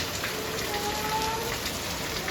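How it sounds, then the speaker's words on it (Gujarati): Steady, continuous rain pours down with an even hiss of drops on surfaces, no voices, no pauses. "આ વરસાદ હજી કન્ટિન્યુઅસ ચાલુ છે"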